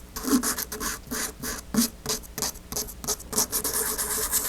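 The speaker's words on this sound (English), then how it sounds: "I'm just going to use this simple 4-way buffer that I happen to have." A simple 4-way nail buffer drawn over a fingernail on its ridge-removing side, making a steady run of soft, close scratchy rubbing strokes in a quick back-and-forth rhythm.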